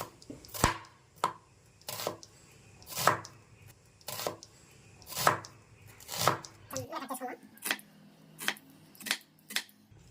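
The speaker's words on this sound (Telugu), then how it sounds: "ఉల్లిపాయని ఈ విధంగా రెండు పీసులు కట్ చేసుకొని ఇప్పుడు ఇలాగ వీలైనంత సన్నగా కట్ చేసుకోవాలి" A knife slices an onion as thinly as possible on a board for onion pakoda, giving sharp, evenly spaced chops about every half second. The cuts sound close and distinct, with no talking.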